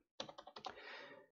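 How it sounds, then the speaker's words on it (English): Rapid clatter of keystrokes on a computer keyboard while editing a Home Assistant configuration in VSCode, a quick burst of close individual key taps that blur into a continuous run, then one last faint tap. "And then we go there and start typing something."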